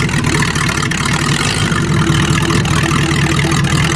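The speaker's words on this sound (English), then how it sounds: "Now you gotta warm it up for a little while. It's running good with that carb." A carbureted engine idles steadily while warming up on a farm, a continuous low rumble that holds even and close throughout.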